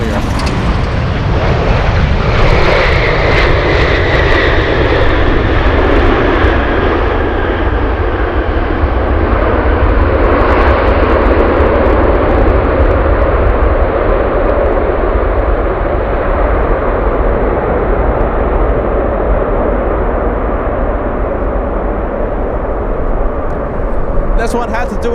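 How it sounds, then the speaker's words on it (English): A Boeing 747 Dreamlifter at Anchorage airport gives off a loud, sustained engine roar with a whining tone that slowly falls and fades over about twenty-five seconds, while a voice talks over it. "we zoom in to the 747"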